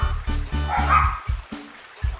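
Dogs in the Nintendo 64 game Custom Robo bark in a quick series of loud, close yaps, about eight short bursts in rapid rhythm, with a whimpering tone between them.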